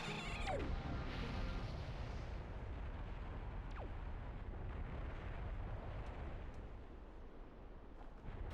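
A fire geyser erupts in Zelda: The Wind Waker, a loud, steady roaring rumble that holds for several seconds with a few sharp bursts near the start, with no voices over it.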